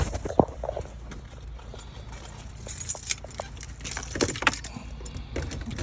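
Car keys jangle and clink near the dashboard of a BMW 335i during a blower motor repair, several scattered metallic rattles over a low background hum.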